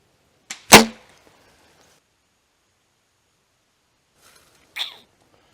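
A crossbow bolt is released with a sharp twang and whoosh, followed about four seconds later by a fainter, distant thud as it strikes the target, with near silence between.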